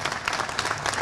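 Brief burst of crowd applause at a public ceremony marking 30 years of democracy in Río Colorado, a continuous patter of many hands clapping at moderate volume.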